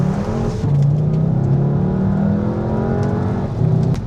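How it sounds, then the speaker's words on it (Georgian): Engine note of a Volkswagen Jetta GLI DSG, amplified into the cabin by a sound actuator: a continuous, rumbling in-car hum whose pitch climbs and dips with the revs, loud and steady throughout. "აი რაც ისმის დაახლოებით Subaru-ს მოგონებს ხოლმე აი ამ მანქანის ხმა რა."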